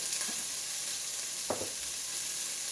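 Food frying in about a tablespoon of oil in a pan, a close, steady sizzle throughout with a couple of short crackling bursts and no talk.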